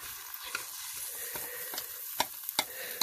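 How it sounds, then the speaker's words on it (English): Steady oily sizzle of dough frying in a hot non-stick cooker, a continuous close hiss broken by a few sharp crackles and pops. "You can already hear it sizzling."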